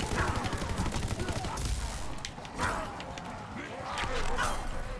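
Rapid automatic gunfire rattles continuously in a Call of Duty WWII Zombies match on the Altar of Blood map, dense and fairly loud, with a voice talking over it.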